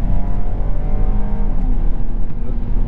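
A Lexus GS 300 accelerates at full throttle, its engine a loud, close, sustained roar and drone heard from inside the car, rising steadily with no voices.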